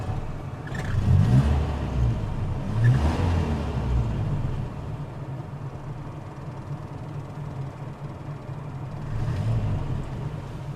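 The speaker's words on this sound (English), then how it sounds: "I know you want to hear what this engine sounds like, so let's get it started up" A 1960s Singer Gazelle Series V saloon's engine runs steadily nearby, already warm, with a couple of revs swelling early on before it settles into an even, rumbling idle.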